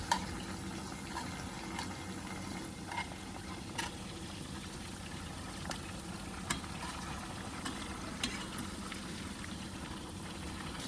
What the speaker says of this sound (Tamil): ஹை ஹீட்டில் அடுப்பை வச்சு 5 நிமிஷம் இது பொரியட்டும்